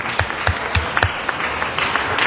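Audience applause in a city council meeting hall, steady scattered clapping throughout with a few louder individual claps standing out, fairly close and moderate in level.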